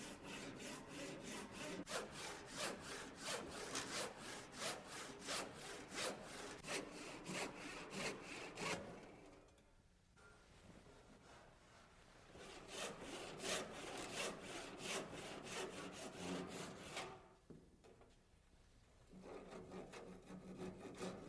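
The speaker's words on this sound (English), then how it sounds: "I'll make the cut with a sharp 12-point cross-cut saw." A sharp 12-point hand cross-cut saw cuts through a wooden stair stringer with steady, rhythmic back-and-forth strokes. The sawing is close and loud, stops briefly twice and then resumes, and no one speaks.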